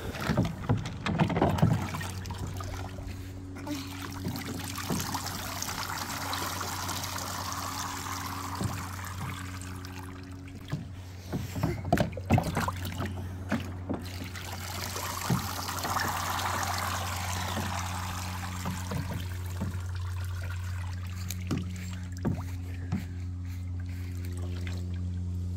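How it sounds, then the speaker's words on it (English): Water trickles and splashes steadily from a toy rain shower on a children's water table for a long stretch, with a low hum underneath and occasional knocks and bumps nearby. "let's get a little rain shower going."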